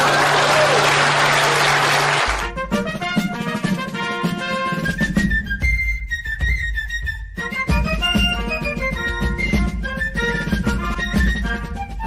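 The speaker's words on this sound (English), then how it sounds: "Please clap." Audience clapping at the close of a political talk show, a loud burst of applause lasting about two seconds before giving way to music.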